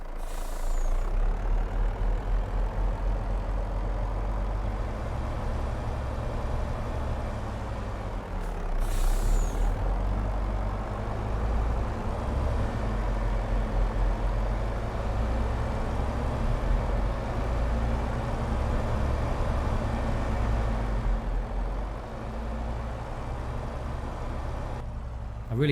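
A Tatra truck in Farming Simulator 22 rumbles along with a steady, loud, low engine drone, and a sharp air-brake hiss breaks in briefly near the middle.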